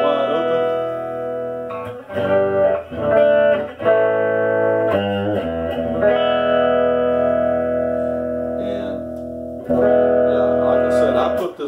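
A 2008 Squier Classic Vibe 50s Stratocaster plays on its bridge pickup with all tone controls wide open, driven through a Tweed Deluxe clone amp, ringing out loud sustained chords and single notes with brief gaps between phrases.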